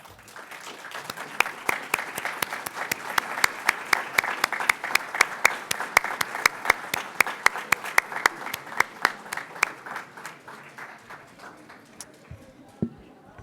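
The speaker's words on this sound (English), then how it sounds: "please stand so that we can applaud and thank you for all that you do" Audience applause at a Project Literacy graduation ceremony, honoring instructors and volunteer tutors: a steady round of many hands clapping, dense and moderately loud, running for several seconds before thinning out, with a few sharp louder claps standing out near the end.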